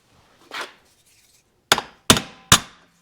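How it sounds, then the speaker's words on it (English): Hammer blows drive rivets into a Suzuki TS125 motorcycle clutch damper: one lighter tap, then three sharp metallic strikes in quick succession, close and ringing briefly, with quiet between. "So I'm going to go ahead and get the rest of my rivets in"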